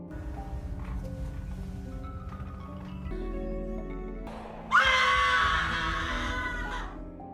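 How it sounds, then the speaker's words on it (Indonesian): Girls in a Korean drama scream in shock after waking up in swapped bodies. A sudden, loud high-pitched scream rises over a steady background score and holds for a couple of seconds before fading. "langsung menjerit saat mendapati bahwa mereka telah bertukar tubuh"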